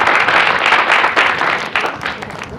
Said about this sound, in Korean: 좋은 말씀에 다시 한번 큰 박수를 부탁드리겠습니다